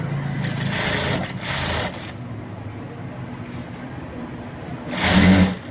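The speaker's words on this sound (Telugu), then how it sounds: "ఇలా మలిచేసి కుట్టు అనేది వేసేద్దాము" An electric sewing machine stitches a work blouse in short runs: a whirring burst, a pause, then another quick run near the end, with faint room noise between.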